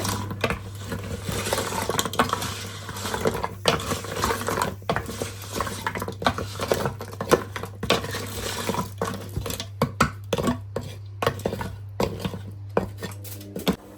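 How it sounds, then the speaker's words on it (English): A whole 900-gram packet of spinach being stirred in a pot, irregular scraping and clattering of the spoon against the metal over a steady low hum, without speech. "Give them a quick stir."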